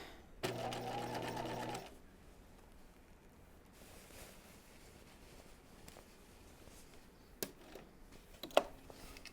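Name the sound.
sewing machine stitching a top's corner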